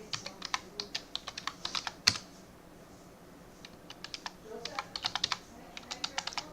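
A password is typed on a computer keyboard in two quick bursts of crisp key clicks separated by a short pause, close and fairly quiet against a silent background.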